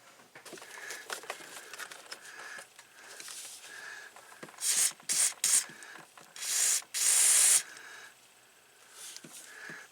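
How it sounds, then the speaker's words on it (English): Short, hissing bursts of DeoxIT contact cleaner sprayed onto an electrical connection during a 2009 Ram repair, heard as several close spray puffs over quiet handling noise. "I sprayed a little deoxit on it to make sure the connection's good"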